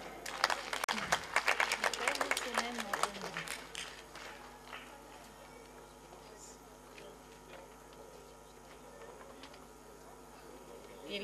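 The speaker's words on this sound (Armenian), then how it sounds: "Ձեր ծափահարությունները։" Audience clapping at an award ceremony in Vayk, Armenia, as a third-place winner is called up, a dense burst of claps in the first few seconds that quickly fades into quiet room noise.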